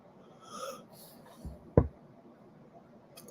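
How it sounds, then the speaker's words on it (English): A single drawn-out yawn, breathy and close, rises and fades over about a second before a short thump, with quiet room noise around it. "excuse me for yawning"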